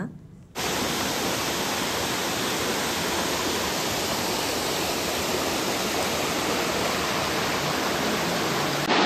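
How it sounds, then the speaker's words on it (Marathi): Parshuramwadi waterfall by a roadside in Konkan, a loud, steady, dense roar of falling water that starts abruptly and continues unbroken, close by. "तो आहे परशुरामवाडीचा धबधबा"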